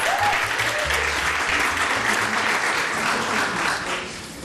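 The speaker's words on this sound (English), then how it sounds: "Let's give all our C-rated schools a round of applause." An audience at a school rating recognition ceremony gives a full round of applause, steady dense clapping across the hall that tapers slightly at the end, with a faint voice early on.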